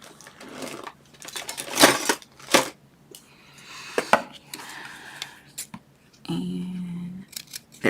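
Scissors snipping while making a handmade card, several sharp separate cuts and clicks with short pauses between them, close by and fairly loud, along with faint handling noise.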